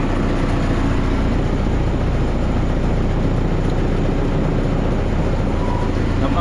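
A boat motor runs loud and steady at close range, a continuous low rumbling drone with no pauses, and faint voices are barely audible beneath it.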